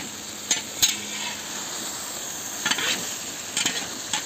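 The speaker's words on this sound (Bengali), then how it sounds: "এ দেখো মাংস হচ্ছে কড়াইয়ে, কত বড় কড়াইয়ে" Meat cooks in a large wok, sizzling steadily while a metal utensil stirs and scrapes it, producing several loud clanks and scraping bursts close by.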